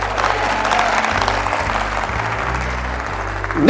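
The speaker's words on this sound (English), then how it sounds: "Clap loud." Loud, steady audience applause at a leadership talk, dense clapping filling the whole stretch with a low hum underneath and a brief swell near the end.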